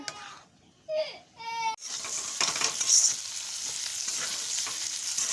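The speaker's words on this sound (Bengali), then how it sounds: "কড়াইতে সরষের তেল দিয়ে তাতে শুকনো লঙ্কা আর পাঁচফোড়ন দিয়ে তারপরে পেঁয়াজ আর রসুন দিয়ে এটাকে ভালো করে ভেজে নিচ্ছি" A brief wailing voice is heard, then onion and garlic sizzle loudly in hot mustard oil in a wok with dried chillies and panch phoron, a steady crackling fry with occasional stirring.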